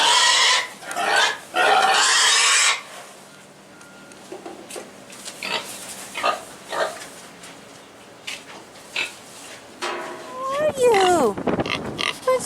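A hungry farm pig, about a year old, oinks and grunts in loud bursts at the start, then quieter snuffling grunts continue with a few squealing cries near the end.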